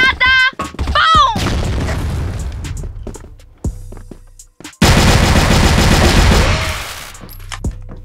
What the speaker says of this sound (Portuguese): Granada! Bom!